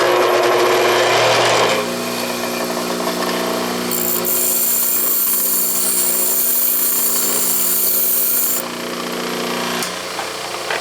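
A bench grinder runs with a loud steady whine while its wheel is dressed with a diamond dresser, and a harsh scraping hiss joins midway as the dresser is moved across the spinning wheel.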